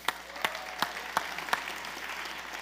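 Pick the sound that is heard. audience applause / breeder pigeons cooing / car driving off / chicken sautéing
audience applause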